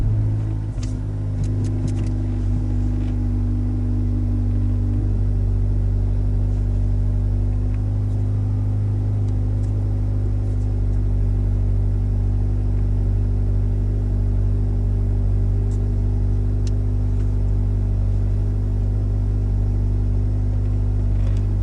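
A 10th-gen Honda Civic with a Magnaflow exhaust idles from inside the cabin, a steady deep low rumble with a constant drone throughout and no talking.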